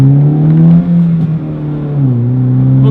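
A Honda Civic Si accelerates hard from inside the cabin, its engine note rising steadily in pitch, dropping briefly at a gear change, then climbing again, loud and close with no talking.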